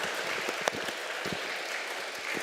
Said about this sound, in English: let's give Mia a round of applause